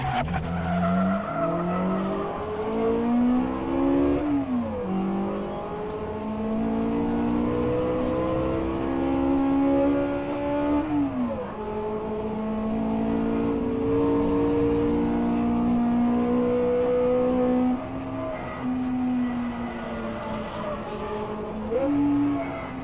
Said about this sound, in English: That whine, that gearbox whine